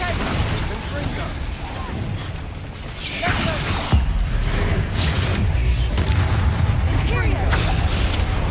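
Spell explosions in Hogwarts Legacy: several loud booming blasts land a second or so apart, mixed with mechanical clatter and game effects.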